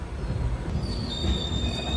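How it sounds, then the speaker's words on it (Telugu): A passing train running from Madgaon to Hapa rumbles close by, its wheels giving off high, sustained squeals over the low rolling noise. "అదిగో ఆ ట్రైన్ మడ్గాన్ నుంచి హాపా అయితే వెళ్తుంది."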